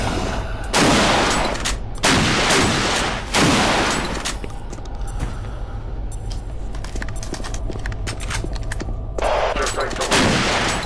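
Repeated shotgun blasts in the first-person shooter Doom 3, four or five loud booming shots spaced about every one to two seconds, each with a short rumbling decay, over continuous game ambience.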